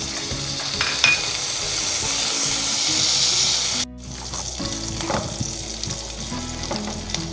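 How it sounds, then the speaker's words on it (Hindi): Pistachios and almonds roast in a hot pan with oil, sizzling loudly and crackling as they are stirred; the frying noise drops sharply partway through, then continues more softly with scattered stirring sounds. "इसमें हम पिस्ते और बादाम वगैरह रोस्ट कर लेंगे 2 मिनट तक।"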